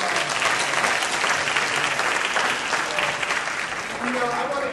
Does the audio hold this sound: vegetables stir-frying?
no